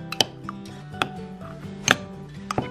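Cornbread batter being mixed in a bowl by hand, with irregular knocking taps of the utensil against the bowl over a soft, continuous stirring sound.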